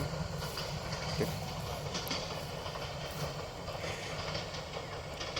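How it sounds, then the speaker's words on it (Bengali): A train rolls past through a hilly settlement with a continuous rumbling roar and a faint rhythmic clatter of wheels on track, steady throughout and moderately distant. "পাহাড়ি জনপদের মাঝখান দিয়ে ট্রেন চকচকাচক চলে গেল"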